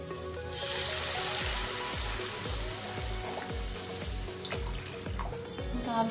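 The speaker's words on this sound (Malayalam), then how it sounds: "ഇനി ഇതിലേക്ക് നമുക്ക് വെള്ളം ആഡ് ചെയ്യാം." Water goes into a pan of spiced egg curry masala, setting off a close, steady hiss and bubbling sizzle with sharp popping bursts that continues throughout.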